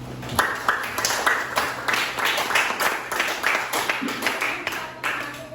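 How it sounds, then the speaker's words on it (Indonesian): Classroom group during a practical teaching exam claps, a rhythmic, fairly close round of hand claps in loose unison with some voices underneath. "silakan diberi tepuk tangan"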